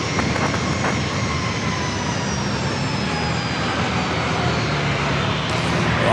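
A Boeing 737-900ER jet departs for Seattle, its engines giving a steady, loud roar that fills the whole stretch without letting up, with no voices over it.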